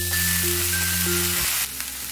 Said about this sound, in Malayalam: ഇനി ഇതിലേക്ക് നമുക്ക് പച്ചപ്പട്ടാണി ഒന്ന് ചേർത്ത് കൊടുക്കാം. എന്നിട്ട് പച്ചമണം മാറുന്ന വരെ അത് നന്നായിട്ടൊന്ന് ഇളക്കിയെടുക്കാം.